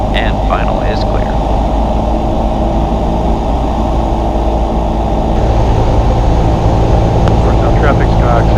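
A steady, loud engine drone fills the cabin of a small propeller airplane in flight, with faint voices over it.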